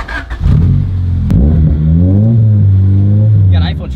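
A Honda Civic engine revs up loudly and close on its first drive, pitch climbing and holding steady across several seconds while people talk excitedly over it.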